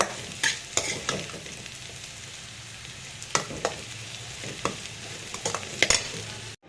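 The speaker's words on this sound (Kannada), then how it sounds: "ಇವಾಗ ಈರುಳ್ಳಿ ಎಲ್ಲ ಹಾಕಿ ಇನ್ನೊಂದ್ಸಲಿ ಒಗ್ಗರಣೆ ಮಾಡೋಣ" Chopped onions crackle softly in hot oil as a tempering for bitter gourd stir-fry, a low steady sizzle punctuated by sharp clinks and scrapes of a spoon against the pan, nearby, with no one speaking.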